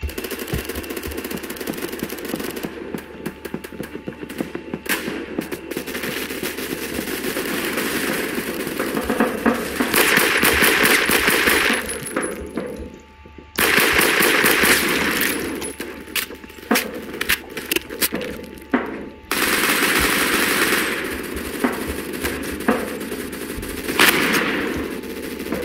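Gunfire in the online shooter game Phantom Forces: long bursts of rapid automatic fire and loud repeated shots with metallic clinks, broken by a few short pauses, continuing over about twenty-five seconds.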